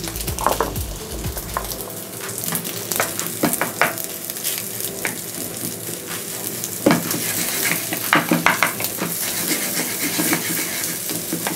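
Chopped onion goes into hot olive oil in a pan and sizzles steadily, with a louder hiss at first and occasional scraping as it is stirred, close and continuous.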